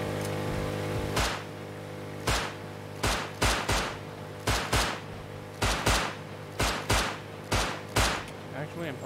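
Gunfire in the video game Rust: a long run of sharp, loud shots fired singly and in quick pairs at an irregular rhythm, close and dominant, with a steady hum underneath.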